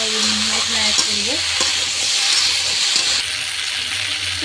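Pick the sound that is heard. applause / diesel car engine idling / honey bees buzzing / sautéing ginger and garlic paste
sautéing ginger and garlic paste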